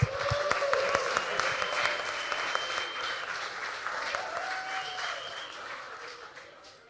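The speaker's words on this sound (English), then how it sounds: "Give them another round of applause." A crowd at a Diwali puja music program at Hiawatha Ashram in Victoria, Australia, applauds the children's performance, the thick clapping holding steady before gradually fading away.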